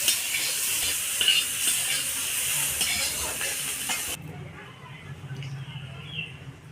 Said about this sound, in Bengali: মেথি শাক ভাজা আমার কমপ্লিট হয়ে গেছে। এবার মেথি শাক ভাজাটাকে নামিয়ে নেব।